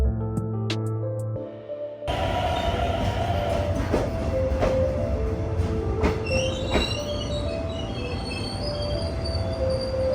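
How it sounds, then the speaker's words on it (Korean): A passenger train, the East Sea Santa Train bound for Jeongdongjin, South Korea, rumbles steadily along the rails, with rhythmic clicks of the wheels and occasional high squeals heard from inside the carriage. "오후 4시 22분, 정동진으로 향하는 동해 산타 열차를 탔습니다"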